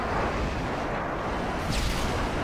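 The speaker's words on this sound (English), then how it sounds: "uh-oh, airstrike" Airstrike explosions in Modern Warfare 2 roll as a continuous, loud, rumbling blast with a brief sharper burst near the end, dense and close.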